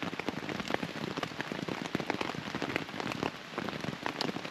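Steady rain patters densely on a surface, a continuous close hiss of countless drops with no voices.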